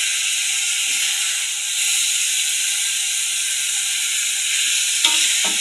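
Janggel mushrooms sizzle steadily while being stir-fried in a pan, with a constant close hiss and a few faint scraping stirs toward the end.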